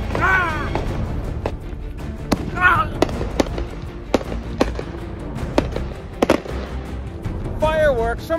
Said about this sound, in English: Fireworks from prison!